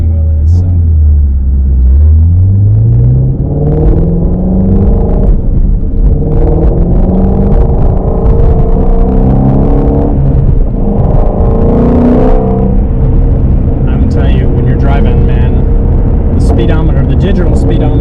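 A 2020 Shelby GT350 accelerating hard, with a deep engine rumble rising in pitch through the gears under loud, continuous talking.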